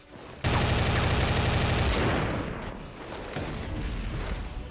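Loud bursts of rapid automatic gunfire from Counter-Strike 1.6 with a Warframe mod erupt suddenly and continue, easing slightly before picking up again, with no talking.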